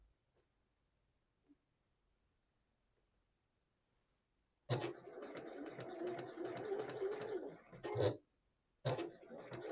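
A sewing machine stitches the side seam of boxer shorts, starting abruptly after near silence with a close, steady mechanical whir. It pauses briefly, then resumes.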